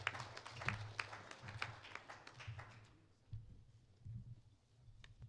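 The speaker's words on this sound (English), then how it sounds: "A round of applause" A formal ceremony audience gives a round of applause, a dense patter of hand claps that fades after a few seconds into quieter scattered taps and low room murmur.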